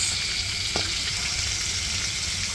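Fried chicken pieces bubble and sizzle steadily in hot oil, a loud, dense, continuous frying hiss with one brief clatter near the start and no talking.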